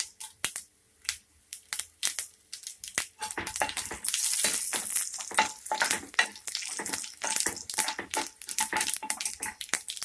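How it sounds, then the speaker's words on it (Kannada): Mustard seeds, cumin, chana dal and urad dal crackle in hot oil for a garlic chutney tempering, a dense close run of sharp pops and spits over a soft sizzle, with no talking. "ಸಾಸಿವೆ ಜೀರಿಗೆ ಚಟಪಟ ಆದಮೇಲೆ ಕಡಲೆಬೇಳೆ ಉದ್ದಿನಬೇಳೆ ಹಾಕ್ಕೊಳ್ಳಿ"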